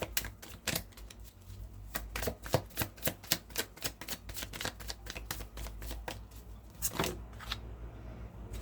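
Tarot cards are shuffled by hand in rapid, riffling bursts, a close, crisp series of papery flicks and snaps that runs steadily through the stretch with no talking.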